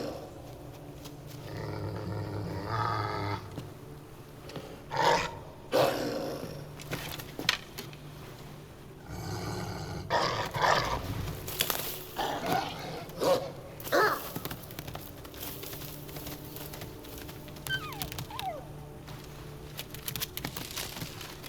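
A wolf growls and snarls in Assassin's Creed Valhalla, a series of low rumbling growls and sharper bursts over a dark ambient game soundscape, loud and close, with no talk.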